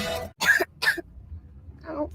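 A sick child in a cold-medicine commercial gives two sharp, close coughs in quick succession, followed after a pause by a softer throat sound.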